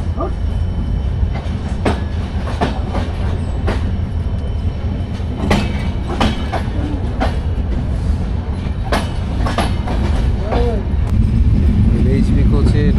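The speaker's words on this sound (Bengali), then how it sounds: "ছেড়ে গেল আমাদের একতা এক্সপ্রেস উল্লাপাড়া থেকে" The Ekota Express passenger train runs at night after leaving Ullapara station in Bangladesh, with a loud, steady rumble and rhythmic clacks of wheels over rail joints, and voices murmuring faintly under the noise.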